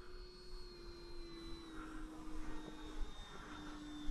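A 70mm electric ducted-fan RC Viper Jet model on a slow, flaps-up pass gives a steady, fairly faint whine with a slowly drifting pitch over outdoor wind noise.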